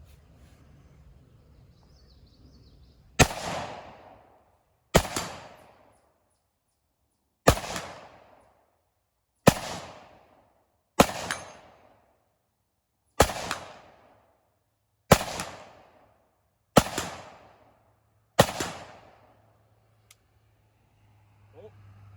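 A Kel Tec SU16 rifle fired outdoors: nine sharp, loud reports spaced about two seconds apart, each trailing off in a short echoing decay, with near silence between shots.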